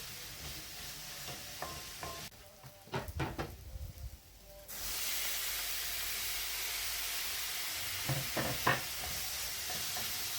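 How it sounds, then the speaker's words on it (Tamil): Onions and tomatoes sautéing in a pan, with intermittent stirring clatters and scrapes, a quieter stretch, then a steady loud hiss of frying with more spatula knocks toward the end. "வெங்காயம் நல்லா வதங்கினதுமே தக்காளி போட்டு வதக்கிக்கிட்டேன்"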